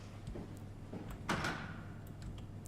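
A single rattle of a locked door being tried in the sci-fi horror game Soma, a brief clunk against a low, steady mechanical hum, with a few faint ticks around it.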